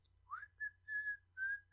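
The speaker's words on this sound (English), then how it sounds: "I've never been able to whistle." A person whistles a few short, thin notes, a rising squeak followed by several steady tones with small gaps, close and quiet against a low background hum.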